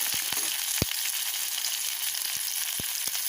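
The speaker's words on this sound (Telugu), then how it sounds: "ఇప్పుడు పులుసు పోసుకుందాం." Tamarind juice hits fried brinjals in a hot pan, leaving a steady, moderate sizzle with a few sharp low knocks and crackles scattered through it, and no talking.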